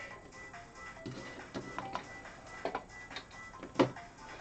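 A home sewing machine stitches the top layer of fabric for binding, a soft steady mechanical whir with light ticking and a few sharper clicks, quiet and close, with no talking.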